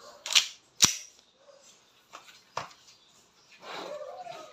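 Double Bell Pit Viper airsoft pistol firing during a chronograph test: two sharp, loud close-up snaps in quick succession, followed by softer clicks and faint handling noise, with a brief murmur of background voice.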